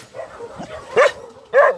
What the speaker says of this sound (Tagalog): naririnig nyo na yung mga tahol ng mga aso